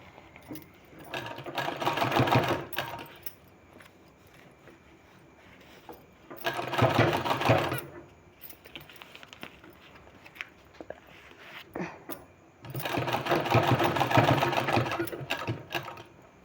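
A sewing machine stitches a two-inch fabric strip for a sleeve design in three bursts of steady whirring, each a second or two long, separated by quiet pauses.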